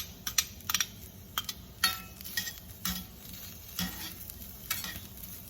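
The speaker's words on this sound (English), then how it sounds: "to my hot cast iron skillet, let's add our bacon and sausage." Bacon and sausage frying in a hot cast iron skillet, giving a steady soft sizzle with close, sharp crackles and pops scattered throughout.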